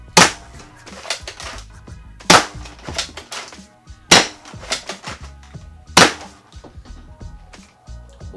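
A JET Blaster toy blaster fires darts fed from a Katana clip, with four sharp, loud cracks spaced about two seconds apart and mechanical clicks and clatter of cycling in between.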